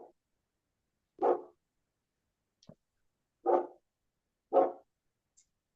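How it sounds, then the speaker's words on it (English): A big dog barks outside the house, three distinct deep barks spaced about a second apart with a couple of faint yips between, heard from some distance and fairly quiet. "you could tell that's from a big dog"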